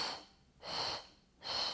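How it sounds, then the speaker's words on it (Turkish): Deep, audible breaths come during a gentle pregnancy side-stretch exercise done without equipment, three airy inhales and exhales in a slow, even rhythm, close and alone. "Üste yukarıdayken derin nefes alıyorum."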